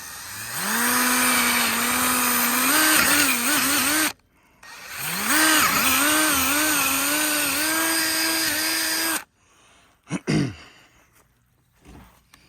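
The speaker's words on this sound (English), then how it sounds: "I'm getting ready to drill the pilot holes for the lag bolts on this side." A power drill bores pilot holes for lag bolts into a wooden gate post, two long close whining runs of about four seconds each with a short pause between, then a few brief bursts.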